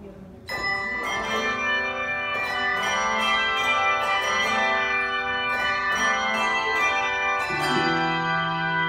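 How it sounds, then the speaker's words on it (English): A church bell choir from First United Methodist Church plays handbells, ringing clear sustained chords with repeated strikes that overlap and hang in the air, steady and fairly loud throughout. "This is the bell choir from First United Methodist Church"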